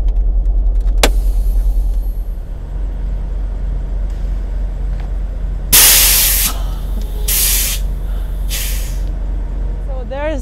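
Truck trailer air supply valve pulled out, releasing loud air hisses: one long blast followed by two shorter bursts over an idling engine rumble, close by, with a voice heard earlier.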